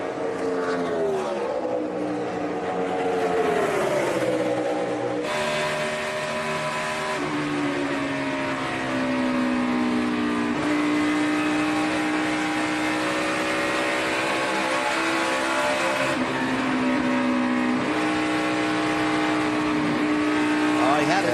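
NASCAR stock car engines roar at the 2014 Brickyard 400 at Indianapolis, a sustained loud droning whine that shifts pitch as cars pass and rev through the corners, under steady commentary from broadcasters.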